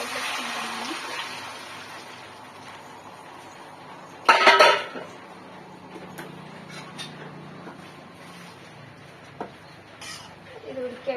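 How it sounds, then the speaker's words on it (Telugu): Cooked dal tipped into a pan in a Telugu home kitchen, a sudden burst of clattering metal and splashing lasting about half a second, with a voice talking before and after. "ఇప్పుడు ఈ పప్పుని దీంట్లో వేసేసుకుంటున్నాను"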